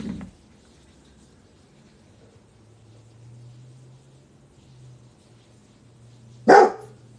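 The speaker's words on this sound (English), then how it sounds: "Anybody want a giant dog in their house?" A giant dog gives one loud, sharp bark close by in a quiet house, after a faint noise at the start and a low steady hum.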